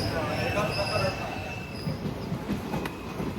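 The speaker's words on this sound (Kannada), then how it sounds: "ಗಾಡಿ ಬಂತೀಗ." Train pulling into Shri Sharada Nagar railway station, heard as a steady rumble and rolling wheel noise with faint squeals, at moderate distance.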